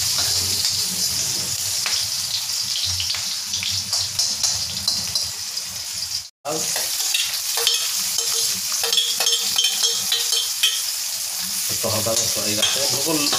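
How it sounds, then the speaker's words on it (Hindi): Steady sizzling of garlic, cumin and chilli frying and browning in hot oil, with occasional stirring scrapes, close and continuous; a brief dropout midway. "हल्का जीरा लहसुन और मिर्चा लहसुन को हल्का सा ब्राउन होने देते हैं"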